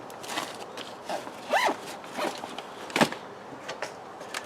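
Zipper pulled closed on an emergency bug-out bag, a couple of quick rasping zips with handling rustle and faint thumps around them, close and fairly loud with no talk.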